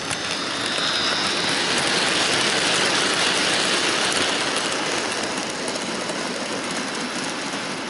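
A Bachmann Paxton model train engine runs on a layout, giving a continuous, even whirring hiss of motor and wheels that holds steady without breaks.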